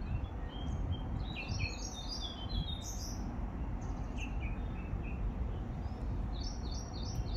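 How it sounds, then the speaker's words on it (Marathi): Birds sing and chirp in bright overlapping phrases over a steady low rumble of outdoor background noise along a dirt footpath on a morning walk, several calls near and continuous throughout. "पक्षी छान गात आहेत."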